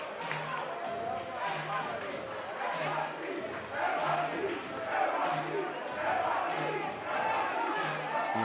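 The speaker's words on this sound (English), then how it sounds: "You can hear the crowd inside the 2300 arena in Philadelphia yelling NYC." Arena crowd at a TCL playoff fight night in Philadelphia's 2300 Arena chants NYC for the Attitude, a loud, continuous roar of massed voices with a rhythmic repeated chant pulsing through it.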